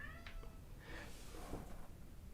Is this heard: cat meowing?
yes